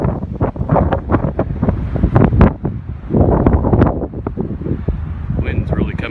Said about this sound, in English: Wind's really coming in.